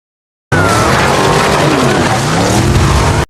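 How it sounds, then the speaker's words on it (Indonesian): After a short silence, a modified car tears away in an action film, engine roaring loud and close as tires skid and screech, the sweeping pitch of the motor sustained until an abrupt cut. "segera pergi menggunakan mobil yang sudah dimodifnya"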